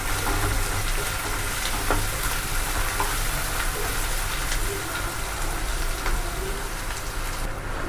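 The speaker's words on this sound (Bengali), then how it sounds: "এই যে পেঁয়াজটাও ফ্রাই করে নিয়ে নেব" Onion frying in oil for a village-style fish curry with greens, a dense continuous sizzle heard up close and loud, with stirring scrapes and no talk.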